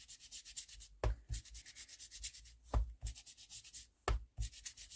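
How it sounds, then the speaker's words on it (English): Ink being worked over paper in a botanical journal, heard as close, breathy rubbing strokes in a steady back-and-forth rhythm, broken by a few soft thumps; no speech. "I'm just going to put some ink over it."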